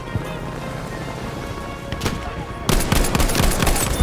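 Gunfire in the Battlefield V video game, scattered distant shots that give way to a denser, louder burst of rapid firing partway through, with faint game ambience throughout.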